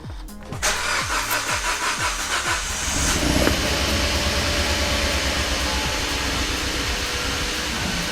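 A Kia Ceed GT engine cranks with a rhythmic starter churn for a few seconds, catches, then settles into a steady, even idle with no misfire.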